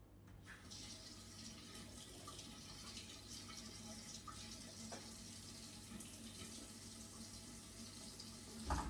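A kitchen tap runs steadily and faintly while water is drawn for baking Anzac biscuits, a continuous soft splashing hiss with a small clunk at the very end.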